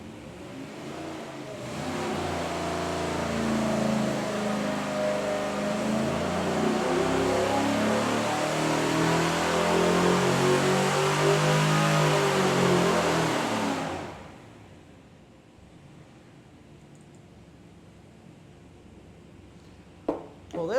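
A 370ci LY6 GM truck V8 on an engine dyno screams through a loud, steadily climbing full-throttle pull for about twelve seconds, then drops abruptly to a low idle rumble, with a couple of sharp clicks near the end.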